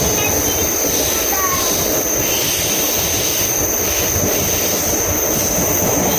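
Loud, steady rumble and rushing noise from inside a passenger train carriage while it runs, continuous wheel and track roar throughout with a faint high squeal now and then.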